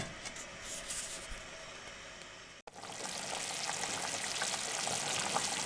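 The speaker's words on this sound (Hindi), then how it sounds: "अब इसी पानी में हम वेजिटेबल को अच्छे तरीके से पकाएंगे और इसको ढक देंगे" Vegetables cooking in water in a covered pot over a medium flame, a steady soft bubbling and sizzling hiss throughout that drops out briefly and then resumes slightly louder.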